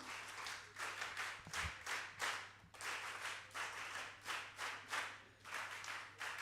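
An audience applauds at a youth parliament event in Hyderabad, India, with steady, dense clapping that swells in soft waves and continues without a break, with no voices.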